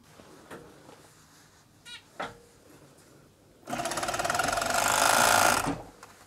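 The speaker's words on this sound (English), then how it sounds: "we are sewing the shoulder seams. Both of them." Overlocker (serger) sewing vest shoulder seams: a few soft clicks and handling taps, then a loud close burst of rapid machine stitching lasting about two seconds before stopping.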